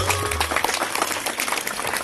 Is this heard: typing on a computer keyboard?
no